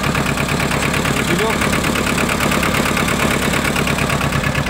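A Yanmar YM1500D mini tractor engine idles steadily and continuously at close range, a dense, even mechanical rumble with no pauses.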